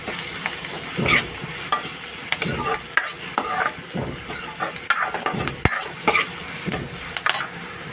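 Onion, curry leaves, green chili, garlic and cumin paste sauté in a pan with a continuous close sizzle, punctuated by frequent irregular scrapes and clinks of a spoon stirring against the metal.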